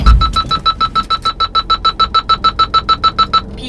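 A driving test car's electronic system beeps in a rapid, steady series of about twenty short, loud, high tones, close by and with no talk over them.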